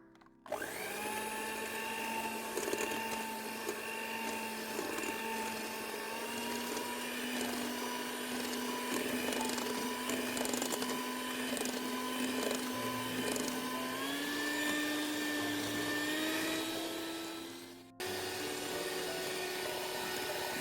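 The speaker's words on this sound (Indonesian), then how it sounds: "Sekarang saya akan kocok telur dan juga gula pasirnya dengan kecepatan paling tinggi selama 5 menit dulu" An electric hand mixer beats eggs and granulated sugar at top speed for a steamed sponge cake batter, a loud steady motor whine whose pitch creeps slowly upward, cutting briefly near the end before resuming.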